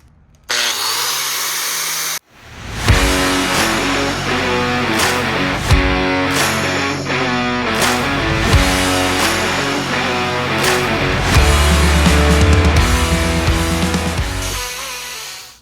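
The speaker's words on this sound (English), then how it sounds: "the encapsulated cup brush, it completely cleaned these surfaces exactly where it was used at, almost a complete circle" An Osborn TY encapsulated wire cup brush on a power tool spins up and grinds loudly against a surface, with a continuous rough scrubbing roar that varies as it is pressed and moved.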